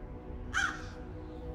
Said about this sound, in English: This pecky bird is sitting there